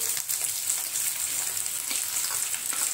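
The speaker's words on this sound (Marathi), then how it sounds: "त्यामध्येच आपण एक शिमला मिरची बारीक कापून घेतलेली आहे, तीही परतून घेऊ।" Finely chopped capsicum with cabbage and carrot stir-fried in a pan for paneer fried rice: a steady, close, bright sizzle with faint scraping stirs, no talking.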